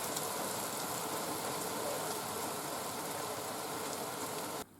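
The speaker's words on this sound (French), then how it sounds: "La pluie nous accueille, mais pas longtemps." Steady rain falling in Alsace, a dense, even hiss that stays loud and constant before cutting off abruptly at the end.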